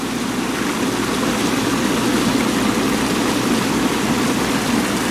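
A Bullfrog hot tub runs its jets on high with the waterfall feature on, giving a dense, even rush of churning water and motor hum that stays steady and close the whole time.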